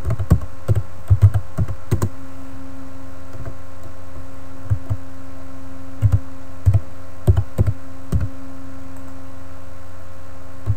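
Computer keyboard typing as a network name is entered on a Hamachi server setup, with short bursts of key clicks separated by pauses over a steady low mains hum.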